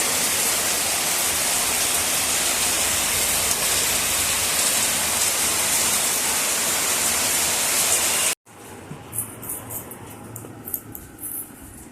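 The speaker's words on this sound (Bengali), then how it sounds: "এদিকে ঝমঝম করে তো বৃষ্টি চলে এসছে" Heavy rain pours outside as a dense, loud, unbroken hiss for about eight seconds before cutting off abruptly to quieter background sound.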